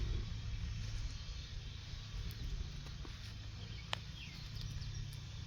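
A Liftmaster LA400DC gate operator drives its ram to swing a gate open, a steady low mechanical hum and drone that holds at constant strength throughout, broken by one brief sharp click near the end, with no voices.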